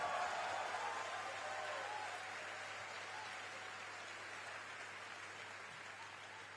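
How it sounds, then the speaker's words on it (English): An audience at the opening ceremony of the Gay Games in Hong Kong applauds in a broad, even wash of clapping that slowly fades, heard at a distance with a faint murmur of voices. "Applause."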